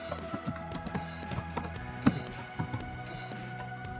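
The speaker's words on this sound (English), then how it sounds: "you go in here and you type your message" A chat message is typed on a computer keyboard, producing quick, close, irregular key clicks with a few brief pauses and one sharper keystroke, with no voices.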